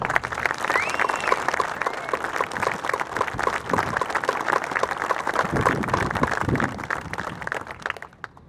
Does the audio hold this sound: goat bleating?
no